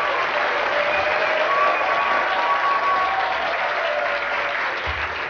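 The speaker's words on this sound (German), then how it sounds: "Einen Applaus bitte." An audience in a studio applauds steadily and loudly in a dense, continuous wash of clapping that holds at an even level throughout.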